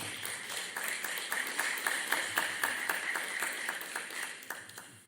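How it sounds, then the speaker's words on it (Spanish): Church congregation applauding during a Sunday sermon, many women clapping in a steady, moderately faint burst of individual claps that fades toward the end, with no talking over it. "Muchas damas aplaudieron, los caballeros estaban."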